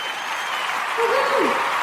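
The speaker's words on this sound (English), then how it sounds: "Thank you, audience, for that gracious round of applause." Studio audience applause on a podcast, a close, dense and continuous clapping wash that holds steady and stops abruptly at the end.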